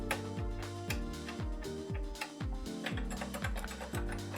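A run of quick keystroke clicks on a vintage TI-99 home computer keyboard that has one key missing, tapped in a steady patter over a continuous tonal hum in the background.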